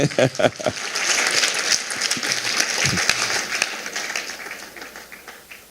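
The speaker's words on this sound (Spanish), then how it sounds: "Denle un aplauso al Señor" Church congregation applauding the Lord at a pastor's leadership talk, a dense steady wash of clapping lasting several seconds, with some voices in it, tapering off at the end.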